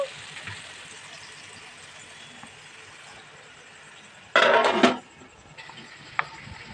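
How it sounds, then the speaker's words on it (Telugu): Chicken leg pieces fry in a pan and are turned from side to side, giving a soft steady sizzle with a brief louder burst of hissing and clinks of a utensil against the pan. "ఇలా రెండు వైపులా టర్న్ చేసుకుంటా మనం లెగ్ పీసుల్ని కొంచెం ఫ్రై చేసుకుందాం"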